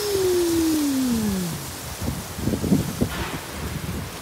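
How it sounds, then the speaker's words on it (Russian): A long, drawn-out metallic creak from a metal arch swaying in wind slides slowly downward in pitch, then gusty wind and rustling take over with scattered knocks. "Арка скрипит. Смотрите, как качается."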